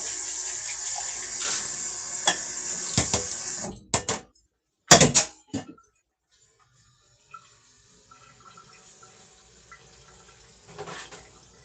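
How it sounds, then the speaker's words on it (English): Water runs from a kitchen tap as cans are rinsed out at a sink, with a steady gush that stops and starts, a few clanks and splashes, then a quieter trickle with faint sounds of handling. "I'm going to rinse my cans out."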